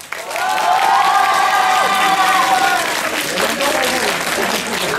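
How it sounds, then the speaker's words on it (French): Audience applause at a Wazabi 2012 stage event, loud and sustained broadband clapping over about five seconds, with cheering voices rising above it early on and a crowd murmur running underneath. "si vous avez aimé sa prestation, applaudissez très fort"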